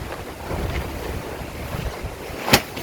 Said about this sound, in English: I know it's windy and noisy